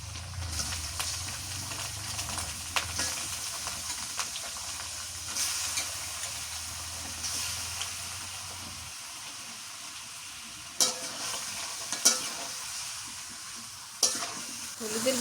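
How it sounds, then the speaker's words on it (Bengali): Mutton fries in hot oil in a pan, giving a soft, continuous sizzle with occasional stirring scrapes and sharp clinks of a utensil toward the end. "এখন মাংসগুলো দিয়ে দিই, মাংস দিয়ে তেলের মধ্যে একটু ভেজে নিয়ে তারপরে মশলাপাতি সব দিয়ে দিই"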